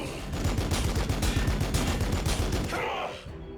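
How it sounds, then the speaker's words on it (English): A heavy bolter in the Battlesector war game fires a loud, rapid burst of shots in a fast steady rhythm for about three seconds, then stops and leaves a fading rumble. "Heavy bolter, lay into these guys."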